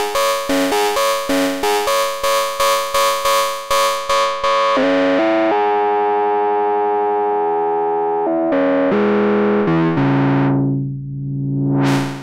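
Dirty, heavily distorted lead synth from a Kobol Expander, first a run of rapid staccato notes, then sustained buzzy tones shifting pitch, ending in a swelling filter sweep.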